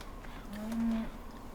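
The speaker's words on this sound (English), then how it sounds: "So this is where the cows are." A cow moos once in Farming Simulator 2017, a short, low, fairly faint call in a livestock pen, set against quiet outdoor farm ambience.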